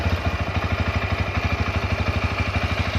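A Bajaj Pulsar N125 motorcycle engine idles close by with a steady, rapid, even chugging pulse and no talk over it.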